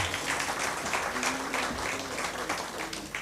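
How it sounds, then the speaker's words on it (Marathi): An audience at a book publication ceremony claps to welcome the host author, a dense, sustained round of applause from a hall crowd that holds steady throughout. "आपण आज पहिल्यांदा आपल्या यजमान लेखकाचं टाळ्या वाजवून सहर्ष स्वागत करू"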